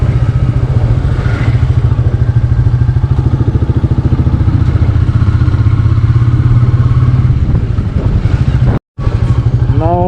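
A Royal Enfield Meteor 350 with its 350cc engine pulls steadily while riding, a loud, continuous low thumping exhaust note with a brief cut near the end before it resumes.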